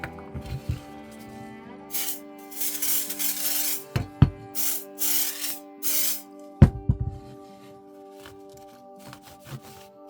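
Silicone water-resistant sealant sprayed onto a restored vintage pruning saw, several short hissing bursts up close over steady background tones.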